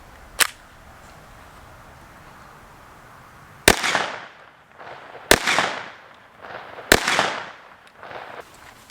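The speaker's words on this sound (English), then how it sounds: "We already shot it once with a 50 Beowulf, but I think we can shoot it a couple more times." A .50 Beowulf rifle fires at a book target outdoors. A single sharp crack is followed after a pause by three loud, evenly spaced shots, each trailing off in a brief echoing decay.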